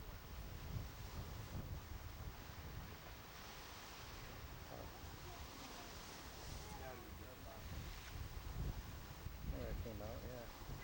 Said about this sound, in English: Every once in a while, water washes through from the other side.